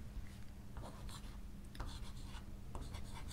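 Chalk or marker scratches on a board during a quantum physics lecture in a classroom, a faint run of short scraping strokes over a steady low room hum, with no talking.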